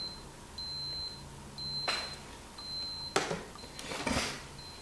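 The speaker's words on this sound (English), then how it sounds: "I get a constant stream of counts. It counts up very quickly and goes into alarm mode." A Rodnik 3 Geiger counter beeping in alarm mode, an intermittent high tone repeating in short bursts over a quiet background, mixed with a few soft clicks and handling rustles.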